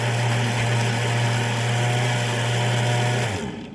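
A blender whirs steadily at a high, constant motor pitch while mixing keto waffle batter, close and loud, then cuts off and winds down at the end.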